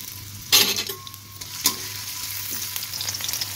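Chopped onion and chili hit hot oil with a sharp burst of sizzling, followed by a metal utensil clinking against the pan and a steady, quieter frying hiss; no speech.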